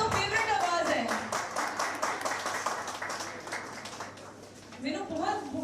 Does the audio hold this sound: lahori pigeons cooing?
no